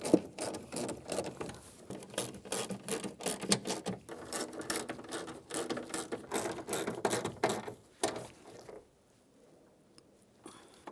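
Screws on a Honda Odyssey rear door panel are driven in with a busy, close rattling whir of continuous tool patter for several seconds, then it stops and the scene falls quiet.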